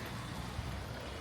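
Rain falls steadily during a walk to work on a busy day, a soft, continuous hiss of drops with no voices, fairly faint and evenly textured throughout.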